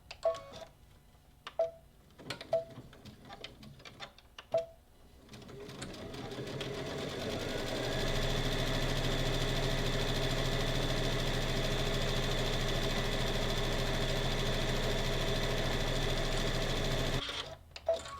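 A sewing machine stitches a cosmetic seam down the sides of a fabric Easter basket using metallic thread, running as a steady, continuous mechanical whir for about ten seconds after a few brief clicks and handling noises.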